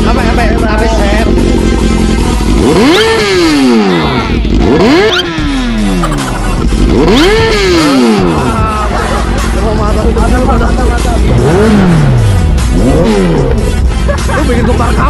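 A Kawasaki ZX14 motorcycle engine revs hard several times in a row at a village wedding celebration, loud and close, each throttle blip rising and falling over crowd chatter.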